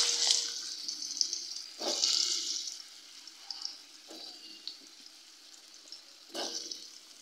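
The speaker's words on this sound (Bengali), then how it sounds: "আলু আর মূলোটাকে প্রথমে আমি ভেজে নেব।" Potato and radish fry in hot oil in a pan, the same oil just used for lentil dumplings, for a rohu fish dish. Loud sizzling comes in bursts as pieces go in, settling to a softer crackle between them.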